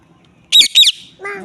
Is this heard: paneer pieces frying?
no